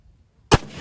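A single sharp scoped-rifle shot cracks out loud and close after near silence, followed by a brief decaying echo across an outdoor range while the rifle is being zeroed.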